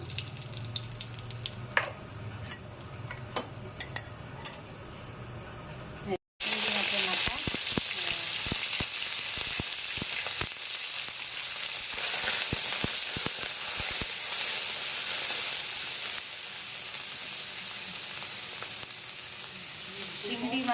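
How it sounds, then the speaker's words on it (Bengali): Nigella seeds hit hot oil for a prawn head curry, a sudden loud sizzle that bursts in after quieter kitchen clatter and keeps hissing steadily close by. "আর এই আমাদের তেল গরম হয়ে গেছে আর কালো জিরা ফোড়ন দিলাম"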